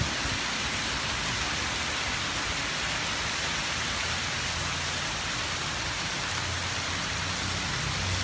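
Heavy rain pours steadily and loudly, a dense continuous hiss of drops drumming on a surface, with no voices.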